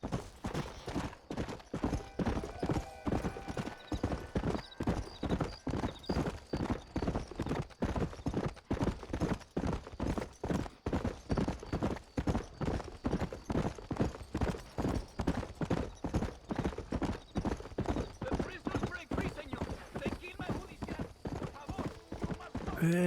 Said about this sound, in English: Now in this game, all the horses are ramming us.